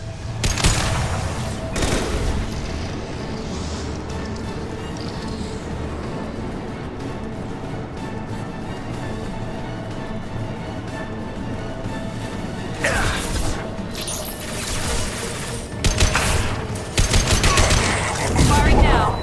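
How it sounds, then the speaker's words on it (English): Heavy high-impact gunfire from the video game Mass Effect 2, loud bursts of shots over a dense battle soundscape with music and crashes, intensifying near the end, with game voices speaking. "Firing a high impact shot."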